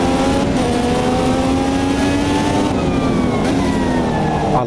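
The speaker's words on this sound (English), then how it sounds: "I love the sound of that engine," Turbocharged race car engine in the racing game Automobilista 2, loud and continuous with climbing and falling revs as the car lifts off the power, its pitch sweeping across gear changes without any voices.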